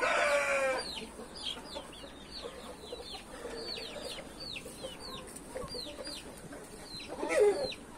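Roosters from different bloodlines on a farm give brief clucks and calls, with many short chirping bird notes scattered through the middle and a louder squawk near the end, fairly distant over outdoor ambience.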